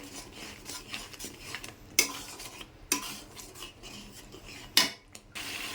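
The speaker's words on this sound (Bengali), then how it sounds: "এবার বেশ খানিক্ষণ কষাবো" Turmeric, chili and cumin powders being stirred and sautéed in a pan, a steady scraping of a spoon against metal with a few sharper clinks and knocks, close and fairly quiet, no voices.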